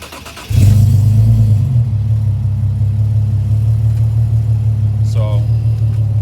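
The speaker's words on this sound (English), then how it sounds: "so we'll start the car up real quick." A car engine cranks briefly, catches and settles into a steady, close, low idle rumble that holds for several seconds, with a short faint chirp near the end.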